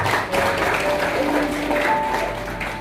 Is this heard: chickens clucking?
no